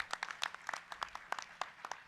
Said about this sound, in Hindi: इस समाज के लिए भी एक बार जोरदार तालियां।